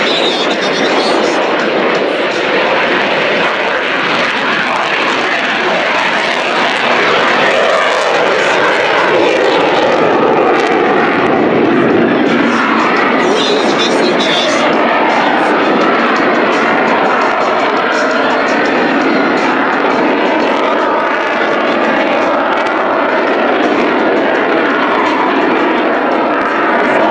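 A U-2 spy plane lands at a Travis AFB air show, its jet engine roaring loud and steady throughout with a broad rushing wash and no break in the noise.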